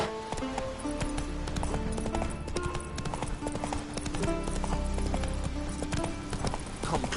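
Steady clip-clop of the horse Roach's hooves in The Witcher 3 video game, trotting under a continuous music and ambient bed, with a brief whinny and game effects mixed in.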